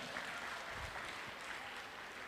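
Audience applause fills a hall at a staff gathering of a Malaysian community education agency in Klang, Selangor, a steady wash of clapping held at an even level throughout with a faint voice beneath.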